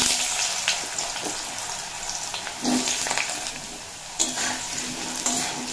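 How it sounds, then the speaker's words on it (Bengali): Potatoes sizzle in a pan with five-spice seeds and a dried chili, a steady hissing fry broken by a few scraping, clattering stirs, close up and with no talk. "আলু 30 সেকেন্ড মতো নাড়াচাড়া করে নিয়েছি"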